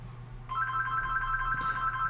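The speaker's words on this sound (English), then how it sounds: "I got a phone call." A telephone rings with a single electronic trill tone that starts abruptly and holds steadily, close and clear over a low background hum, with no talking.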